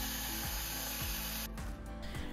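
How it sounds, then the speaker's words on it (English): A power screwdriver removes the screws fastening a JBL PartyBox Encore Essential motherboard to its metal cover, giving a steady close whirring drone broken by short pulses, with no talking. "The motherboard is also attached to this metal cover with 7 screws, which we will also remove."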